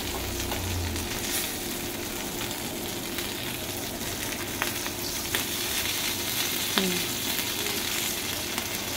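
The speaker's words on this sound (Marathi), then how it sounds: "आता पाठच्या साईडने पण आपण मस्त ही बांगडा मच्छी फ्राय करून घेऊया" Bangda mackerel frying in a pan, a steady crackling sizzle with bursts of spitting oil, close and continuous, with a brief clink of utensils near the end.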